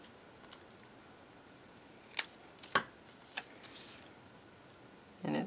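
Scissors snip through a clear acetate die-cut, a few sharp isolated clicks and cuts spaced irregularly over a quiet background, close and faint.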